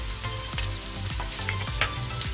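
Tagliatelle is being tossed in a pot with onion and cream for a smoked salmon pasta. A spoon scrapes and stirs in a regular rhythm of about two strokes per second over a soft, continuous sizzle, with no voices.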